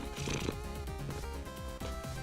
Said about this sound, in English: Purring right into the microphone.